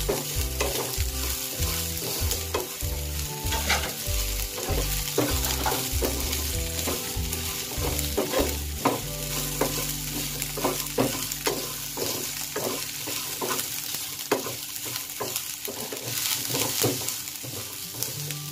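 Mangalore-style mutton curry ingredients fry in a pan over a low flame, giving a constant loud sizzle with frequent rhythmic scrapes and clinks of stirring, and with no one speaking.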